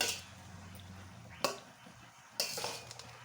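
A spoon stirring pulihora, tamarind rice with turmeric, in a pot, quiet scraping and mixing with two sharper knocks of utensil on metal.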